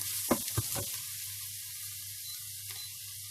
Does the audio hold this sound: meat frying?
yes